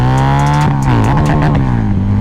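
A Harley-Davidson V-Rod Muscle motorcycle accelerates hard from 40 toward 100, its engine roaring loudly as the pitch climbs, drops briefly at a gear change, then keeps rising.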